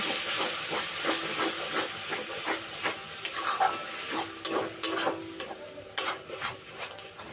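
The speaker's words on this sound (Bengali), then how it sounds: "এরপরেতে দিয়ে দেবো তিনটে টমেটো বাটা এখন টমেটোটা একটু মিশিয়ে নেব" Tomato paste being stirred into a potato curry in a pan, repeated spoon scrapes and clacks over a soft hiss of simmering, close and irregular, no voices.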